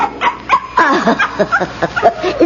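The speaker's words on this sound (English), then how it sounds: "I left my little dog downstairs" A small dog yips and whimpers in short, close, fairly loud bursts, several quick barks and whines over a few seconds, with no talk.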